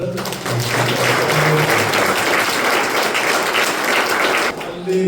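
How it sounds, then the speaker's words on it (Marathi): A church congregation claps together during a Christian worship service, a steady dense wash of applause lasting about four seconds before it fades out. "आपण टाळ्या वाजवत"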